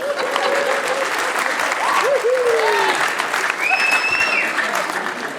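Audience at a comedy club show applauding and cheering in sustained loud clapping, with scattered whoops and shouts rising over the crowd, no speech on top.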